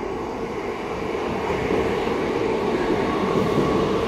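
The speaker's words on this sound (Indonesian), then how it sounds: "Hore, kita naik KRL baru." Steady rumbling roar of a new CRRC-built KRL electric commuter train riding along, a continuous broad hum of wheels and motors that swells slightly louder partway through.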